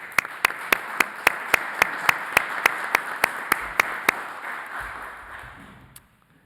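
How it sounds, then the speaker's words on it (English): Community members at a school board meeting applaud the board, with a run of sharp, evenly spaced claps standing out over a broad wash of clapping that thins and fades to near silence by the end. "I ask our community just join us in a round of applause for our school board."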